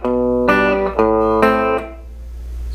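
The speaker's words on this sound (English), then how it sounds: "No reverb on the clean channel will sound like this." Electric guitar on a clean amp channel with the reverb turned off, a few plucked notes and chords that stop dry and abruptly, close and moderately loud with no other sounds.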